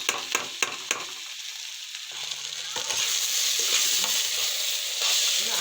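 Tomatoes are stirred and sautéed in a pan with green peas. A few quick spoon scrapes and clacks open it, then a steady, close sizzle of frying takes over.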